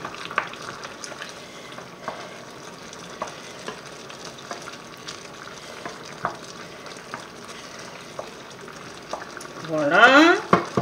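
Chicken with fresh ginger being stirred in a pot for coconut curry, a continuous low sizzle with scattered spoon knocks and scrapes, then a louder burst of frying near the end; no voices.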